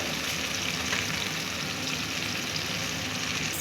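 Steady, dense sizzling and bubbling of tamarind water with salt and curry leaves boiling in a hot pan, continuous and close with no voices.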